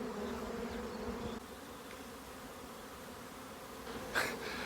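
A bee swarm freshly settled in a new hive buzzes steadily, a soft continuous drone with a brief closer, louder pass near the end.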